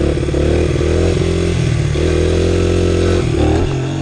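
Honda XR100 pit bike engine running hard after an oil change, a loud, buzzy single-cylinder drone with rising and falling revs, recorded close on board.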